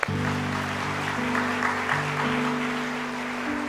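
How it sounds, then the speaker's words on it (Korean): A Korean church congregation applauding during Sunday worship, with continuous clapping over sustained organ or keyboard chords. "하나님께 영광 박수 올려드릴까요?"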